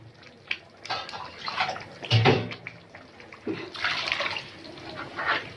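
Water is poured into a pot of simmering fava beans cooked with tomato, a steady splashing gush that swells and fades twice, close and moderately loud with no talk.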